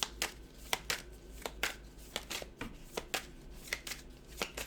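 Tarot cards being shuffled at close range, a steady series of crisp riffling slaps and rustles repeating about every half second, quiet and alone without talk.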